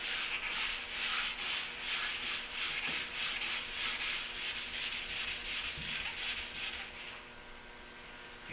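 Soft sanding block rubbed back and forth over a contoured Duramax truck hood, a steady close rasping scrape in regular strokes, continuing alone without talk and easing slightly near the end.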